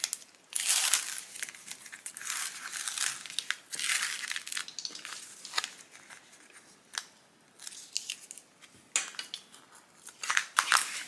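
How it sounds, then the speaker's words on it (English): Tape backing peeled and pulled off cut fabric strap pieces: close, irregular crinkling and crackling rips of paper backing, in repeated short bursts with brief pauses. "I'm going to remove the tape backing on all pieces."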